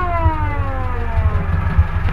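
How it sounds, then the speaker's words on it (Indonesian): Siren on a Jeep Willys K5 sounding loud and close, a smooth tone sliding downward over a low engine idle, heard alone for a couple of seconds. "Ini tombol untuk sirine."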